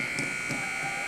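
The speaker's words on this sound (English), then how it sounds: "With the buzzer" A steady electronic buzzer sounds in an ice hockey arena at the end of a semifinal game, holding one continuous loud tone over the low murmur of the crowd.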